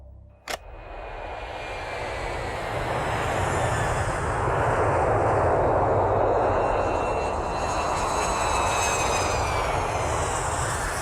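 An airplane passes overhead, its engine roar rising from quiet to a loud, sustained broadband drone that holds steady through the rest, preceded by a brief sharp click at the start.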